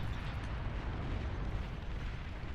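A bomber run in the strategy game Beyond All Reason sets off a dense, continuous roar of overlapping explosions with heavy low rumble and no gaps.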